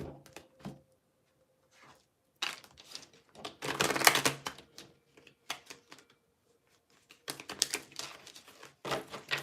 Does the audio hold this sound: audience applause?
no